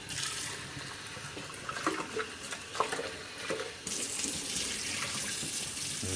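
Tap water runs into a Mr. Coffee Cafe Barista water reservoir as it is rinsed, with a steady broadband splashing, some sloshing and knocking mid-way, then a fuller rush of flowing water, close and without speech.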